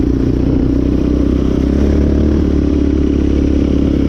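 A Yamaha Raptor 700R sport quad cruising in fifth gear on a desert-to-mountain ride, its engine giving a loud, steady, close drone with a constant rumble and no change in pace.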